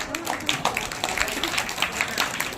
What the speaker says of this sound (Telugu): టీచర్లకు అందరు క్లాప్స్ కొట్టండి ఒకసారి